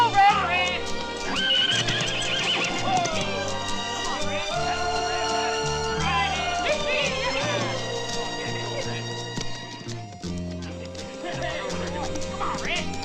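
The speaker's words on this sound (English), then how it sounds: "That horse ain't died on you, has he?" A horse neighs and its hooves clip-clop in a Western setting, loud and close, mixed with a barking dog and continuous music.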